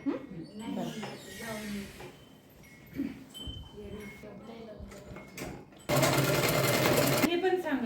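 A sewing machine stitches a zipper onto a readymade skirt, a loud steady mechanical whir bursting in near the end after a stretch of speech with faint handling clicks.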